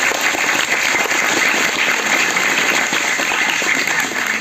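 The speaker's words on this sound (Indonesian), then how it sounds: "Tepuk tangan dulu untuk SMP." A school assembly crowd at an Isra Mi'raj commemoration in Balangan, Indonesia applauds steadily and loudly, a dense wash of clapping that holds for several seconds with no pause.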